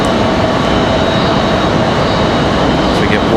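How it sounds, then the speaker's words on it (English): A CRJ regional jet waits for departure at Raleigh-Durham International Airport, its engines producing a loud, steady, broadband roar that fills the whole stretch without pause. "As we await this CRJ departure."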